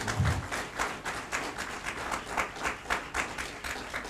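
Audience applause at a business coaching talk, steady rhythmic clapping from a crowd filling the whole stretch at an even level, with no voices on top.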